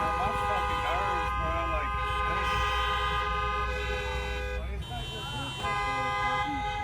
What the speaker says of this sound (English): These people keep honking their damn horns.